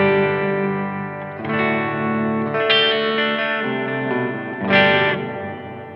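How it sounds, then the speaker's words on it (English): Guitar played through an analog reverb pedal with its low-pass filter set for a dark tone: sustained, heavily effected chords with a muffled, smeared tail, changing a few times and swelling brighter near the end, with no talking. "it's got this low-pass filter as well, which is really fun because you can have quite a dark reverb"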